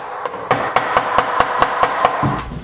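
A hammer strikes a wooden crib in a steady series of about ten sharp, loud knocks, evenly spaced and close, each ringing briefly against a faint background hum.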